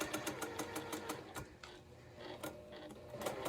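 A heavy Juki sewing machine stitches fabric for a pottery star quilt, giving a rapid, even needle patter up close that slows briefly mid-run before resuming at a steady pace.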